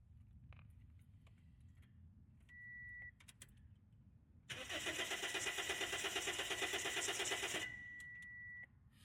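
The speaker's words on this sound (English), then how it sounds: "Crank the ignition a few times to depressurize the system." Starter cranking on a 2007 Toyota Yaris engine, a steady, rapid whirring churn lasting about three seconds without catching, preceded and followed by quiet clicks and a faint electronic tone.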